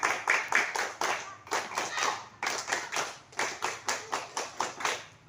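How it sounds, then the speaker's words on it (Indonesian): A group of children doing the rhythmic Indonesian scout clap, tepuk pramuka: about twenty crisp, even claps in quick patterned bursts with short pauses, close and fairly loud, with no talk. "Itu tepuk pramuka sekali"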